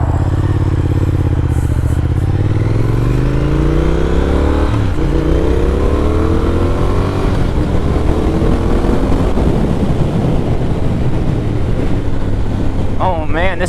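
A Triumph Speed Twin motorcycle engine pulls and accelerates while being ridden, its rising and falling rev sweeps steady and close under heavy wind rush, with a voice briefly heard over it.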